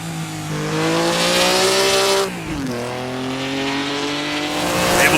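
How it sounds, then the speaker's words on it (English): A Maserati race car in Assetto Corsa revs hard in first gear toward the red line, a loud rising engine whine that dips sharply on a shift or lift, then climbs again. "really revved it out there in 1st gear. I think very much near the red line."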